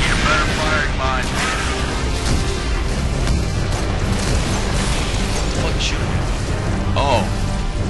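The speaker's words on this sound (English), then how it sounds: "These grunts, they can be throwing those grenades too." Grenades thrown by Grunts in Halo Reach blast repeatedly in dense combat, booms and cracks piling over constant gunfire and game noise, with voices talking over the chaos.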